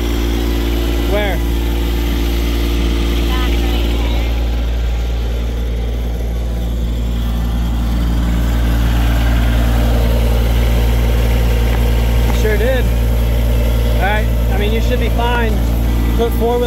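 Tractor engine idling and rumbling steadily in four-wheel drive after getting stuck in a hole while brush hogging, a loud continuous low drone with people talking over it.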